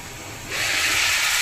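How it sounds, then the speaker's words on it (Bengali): Cauliflower, potato and pumpkin frying together in a pan give a close, steady sizzling hiss that grows louder partway through and keeps going without a break. "ফুলকপি, আলু, কুমড়ো একসাথে ভাজা বসিয়ে দিয়েছি"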